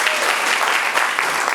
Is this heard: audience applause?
yes